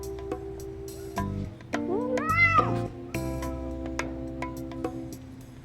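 Several meows, some drawn out and rising in pitch, close and fairly loud, trading off against one another.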